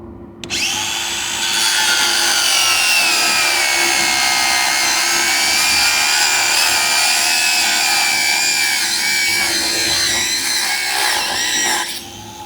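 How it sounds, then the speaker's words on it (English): An angle grinder cuts through a regular motorcycle lock: a loud, sustained high-pitched shriek and whine that starts abruptly and holds steady for about eleven seconds before cutting off, with no talk. "a lot of thieves are using angle grinders to steal bikes. So perhaps we could take a look then at cutting through a regular lock"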